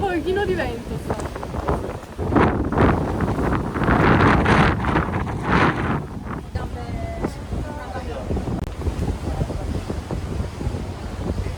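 Gusty wind buffeting the microphone in loud, rumbling surges on a ferry near Ischia, Italy, strongest in the middle, with people talking beneath it.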